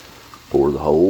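Contadina canned tomato sauce poured into a hot pan of chicken for fiesta chicken, a loud burst of sizzling and frying starting about halfway in and holding steady to the end after a quiet lead-in.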